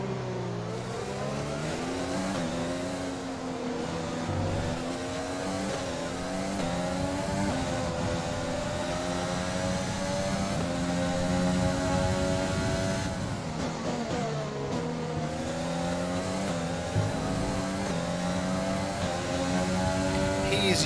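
A Formula 1 car engine screams through gear changes in the racing game F1 2020, a loud continuous high-revving whine rising and falling with shifts, with other cars audible around it.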